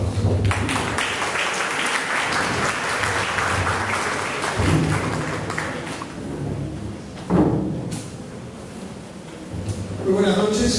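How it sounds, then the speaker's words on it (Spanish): A university conference audience applauds in a hall as a guest speaker is welcomed, sustained clapping with a few thumps, fading toward the end. "Doctor Cornejo, es usted bienvenido y le resultamos con nuestros aplausos."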